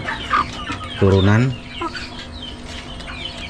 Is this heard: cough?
no